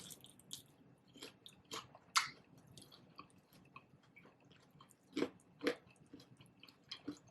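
Crisp bites into crunchy Taco Bell chicken wings with Mexican queso seasoning: a few scattered, close crunches and chewing sounds, quiet and separated by pauses, with no talking.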